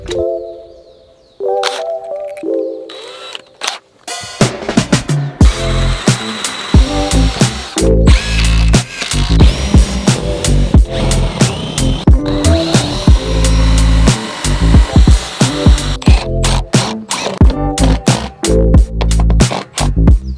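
A power drill drives roofing screws into wooden boards, countersinking them, in a long run of loud, close bursts with ratcheting clicks, short pauses and repeated spin-ups.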